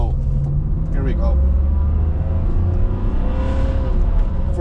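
Car fitted with an F1-style paddle-shift transmission cruising in regular gear shift mode, engine humming steadily with a shifting pitch, a voice talking over it throughout.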